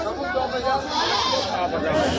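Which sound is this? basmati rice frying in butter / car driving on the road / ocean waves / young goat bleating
young goat bleating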